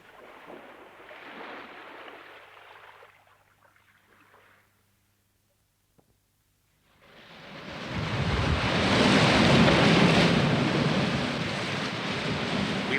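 Sea waves and wind as a radio drama effect: a soft wash fades into near silence, then a loud roar of surf and gusting wind swells up and holds.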